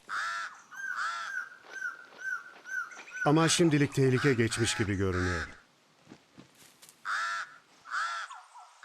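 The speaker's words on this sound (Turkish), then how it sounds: "Kargalar da sanki bu anı bekler gibi fırsatı değerlendirmeye ve o günkü yiyeceklerini kapmaya çalışıyor." Hooded crows caw in a forest, a series of loud, harsh calls repeating in bursts, with someone narrating in Turkish over part of it.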